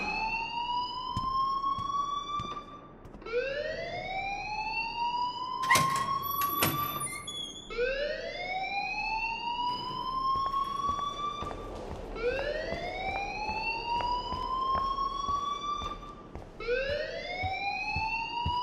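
A school alarm blares in the video game Life Is Strange: a loud electronic siren rises again and again in regular swoops, with a brief sharp clatter partway through.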